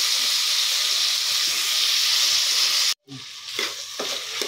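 Food fries in a pan with a loud, steady sizzle and hiss, then cuts off abruptly before a quieter, softer frying resumes with faint stirring clatter.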